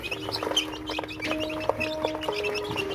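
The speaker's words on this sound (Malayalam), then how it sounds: "കോഴിക്കുഞ്ഞുങ്ങൾ അത് കഴിച്ചുകൊണ്ടിരിക്കുകയാണ്" Busy chirping and clucking of young native country chicks eating after brooding, with thin repeated peeps over a soft scratching background, steady and close.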